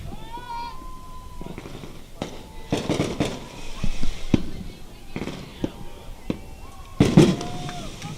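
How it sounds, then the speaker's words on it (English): Fireworks go off over a baseball game, scattered booms and crackles near and far for several seconds, with crowd noise and an announcer talking between bursts. "Fireworks finale."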